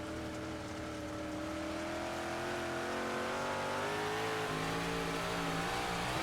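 Big Block race cars roar continuously on the Lernerville dirt track, a loud, sustained engine drone with rising and shifting pitch as the lead cars battle, heard up close without talk.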